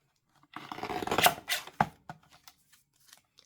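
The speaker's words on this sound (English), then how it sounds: "Take your paper trimmer and even everything up" Paper trimmer slicing through stacked junk journal paper: a close, dry rasping cut lasting about a second and a half, then a few quieter scrapes and taps as the paper settles.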